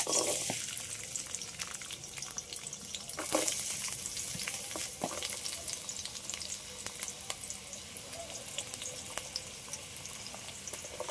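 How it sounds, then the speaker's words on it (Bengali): Diced potatoes fry in a pan with a steady, close crackling sizzle that runs the whole time, broken by occasional spatula stirs and a few brief clatters, with no voices. "এগুলো সব আগে একটু ভেজে নেবো। আগে আলুটা দিয়ে দিচ্ছি।"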